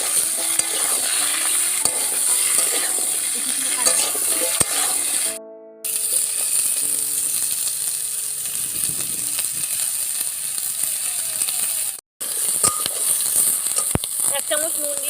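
Papaya and potatoes fry lightly in a pan with five-spice seeds, a continuous close sizzle broken by metal stirring scrapes and clinks, with two short moments where the sound cuts out.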